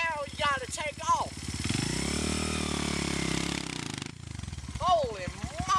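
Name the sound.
Honda XR dirt bike engine kick-started and revving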